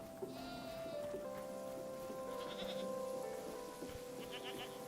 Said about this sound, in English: Look at the goats are here.